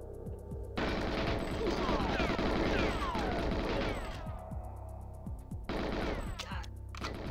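Loud gunfire in GoldenEye 007, dense bursts of rapid shots with a short pause before a second burst, the firing near and dominant.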